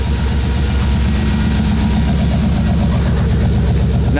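A 1959 Corvette's V8 idling at the tailpipe, a deep steady burbling exhaust rumble with even pulses, close and continuous with no talk.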